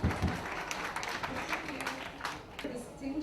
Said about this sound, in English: You can clap please for her.